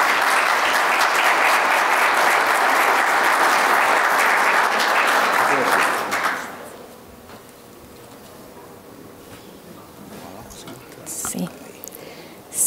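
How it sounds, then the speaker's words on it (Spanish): An audience gives a dense burst of applause to welcome a speaker onto the stage at a border security panel, then the applause fades into a quieter room. "les brindamos estos aplausos"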